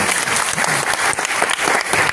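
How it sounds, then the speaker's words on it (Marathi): A crowd at a district pensioners' association general meeting in Chhatrapati Sambhajinagar claps loudly and continuously, a dense, steady burst of applause throughout. "एकदा जोरदार टाळ्या झाल्या पाहिजे।"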